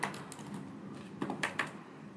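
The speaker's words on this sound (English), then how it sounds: "next is typing in username password" Soft, quiet taps on a computer keyboard, a few irregular keystrokes clustered together with short pauses between them.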